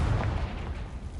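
Confringo blasting spell in Hogwarts Legacy, a short, heavy explosive boom with a dense low rumble that fills the moment up close.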